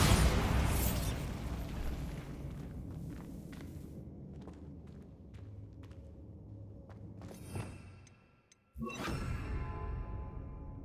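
A Bombarda explosion spell in the Hogwarts Legacy video game: a broad, loud blast that decays into a rumbling tail with scattered debris pops, then a second sharp burst near the end.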